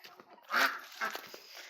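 Ducks and their chicks at an evening feeding in a farmyard pen give a short, loud burst of quacking and honking calls, with softer scattered peeps before and after.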